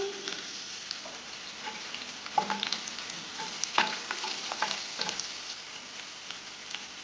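Cumin, asafoetida, curry leaves and a green chili sizzle in hot oil for a Kathiyawadi gathiya curry, a steady crackling fry with scattered sharp pops, close and alone.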